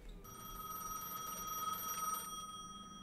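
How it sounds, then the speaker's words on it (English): A telephone rings at the booth in front of the station in Gas Station Simulator, a steady, bright electronic trill that sounds continuously for most of the clip and then cuts off near the end. "pick up the phone at the booth in front of the station"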